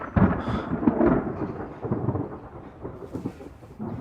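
Thunder rumbles loudly and close, a deep rolling roar that swells and fades over a few seconds.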